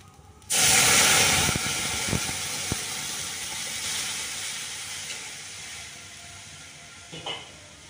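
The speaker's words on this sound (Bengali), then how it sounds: "দুধটা ঢেলে দেবো।" Milk poured into a hot pan of fried rice for payesh bursts into a loud, sudden hiss and sizzle that slowly fades, with a few faint clinks in between.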